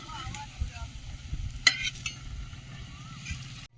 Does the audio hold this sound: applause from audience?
no